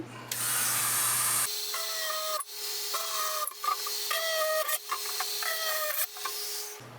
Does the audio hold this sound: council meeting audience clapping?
no